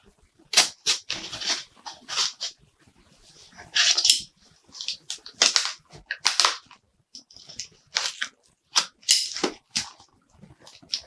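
Tape on a package being cut open with a blade, producing a series of sharp, close scraping and ripping bursts separated by short silences, with an irregular rhythm of slicing strokes.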